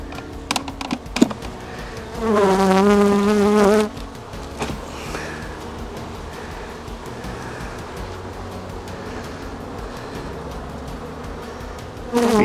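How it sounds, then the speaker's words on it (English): Honeybees hum steadily around an open nuc hive box, a constant close swarm buzz, with a louder, tonal buzz passing near for a moment early on. "Bees looking very healthy."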